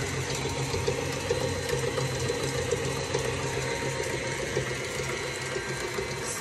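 An electric mixer whirs steadily as it beats Linzer cookie dough, a continuous close mechanical buzz holding an even level for several seconds with no talk.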